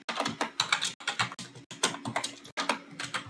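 Rapid typing of code on a computer keyboard, dense irregular clacking of keys close up, loud and continuous with brief pauses, no talking.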